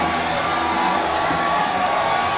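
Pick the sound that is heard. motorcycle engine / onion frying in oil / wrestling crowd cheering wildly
wrestling crowd cheering wildly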